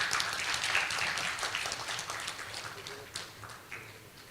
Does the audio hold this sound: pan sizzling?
no